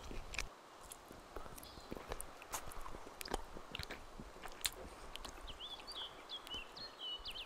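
Repeated chewing and biting as a character eats food in the DayZ video game, soft crunchy bites in an irregular rhythm over a low steady background, with faint chirpy bird calls toward the end.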